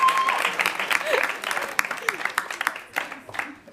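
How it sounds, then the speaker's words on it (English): An audience at a student election question time applauds the candidates, clapping that starts full and thins into scattered separate claps, with voices and an audible exclamation mixed in. "a massive round of applause for our candidates,"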